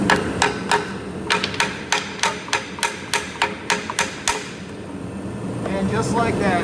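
Repeated hammer taps on a Subaru WRX drive shaft being knocked loose, about fifteen sharp metallic strikes in a steady rhythm, close and clear, then stopping as the workshop falls quiet.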